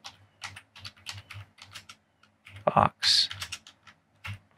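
Keystrokes on a computer keyboard while filling in a counter offer form, soft scattered taps in short bursts with a louder clatter near the middle, under a person talking.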